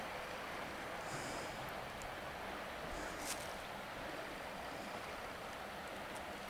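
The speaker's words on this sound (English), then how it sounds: "Hopefully you can hear the riffles." A shallow forest creek runs over riffles with a soft, steady babbling rush, fairly faint and continuous with nobody speaking.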